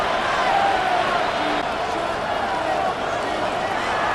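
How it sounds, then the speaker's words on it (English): A loud, steady stadium crowd roar at a Cincinnati Bengals at Jacksonville Jaguars football game in an EA Sports game. It runs continuously beneath a commentator's talk. "The noise very loud from the crowd."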